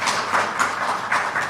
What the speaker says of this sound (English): I think Kenabua deserves another round of applause